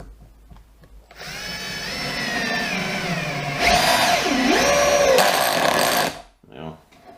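A power drill set to 3 drives a 70 by 5 Turbo Gold woodscrew into timber, a loud, steady whining motor running for about five seconds, its pitch sagging and recovering as the screw bites, then stopping abruptly.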